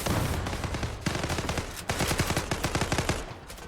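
Rapid automatic fire from an FN FAL Pro rifle in the online shooter Zula, with dense, loud bursts of shots that run continuously and break only briefly.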